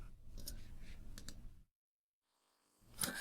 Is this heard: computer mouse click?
yes